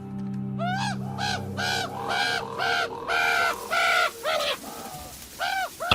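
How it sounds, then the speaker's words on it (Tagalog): Crows caw over and over in loud, harsh bursts that repeat in an uneven rhythm, close and with no talk, and a low background hum sits underneath. "Heto na naman tong mga uwak na to"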